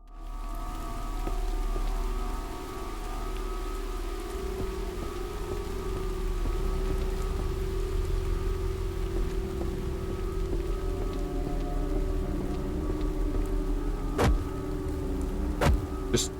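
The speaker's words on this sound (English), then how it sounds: "the rain sound effect didn't kick in until I corrected the FOV" Steady rain falls in a video game scene, a continuous close patter over a low background hum, with two brief sharp ticks near the end and no talking.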